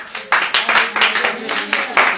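Congregation at a Sunday thanksgiving worship service clapping in a steady rhythm, beats roughly every quarter second, loud and close, with voices mingling in the background.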